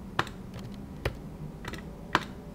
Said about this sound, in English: Type in some watermark text